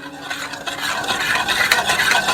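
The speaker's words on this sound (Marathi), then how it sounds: "बस हे चांगलं फेटून घेऊया, मिक्स करून घ्यायचं." Milk mixture with condensed milk and custard powder being whisked in a bowl for kharvas, a continuous close swishing and scraping with a rapid rhythmic churn, fairly loud and alone.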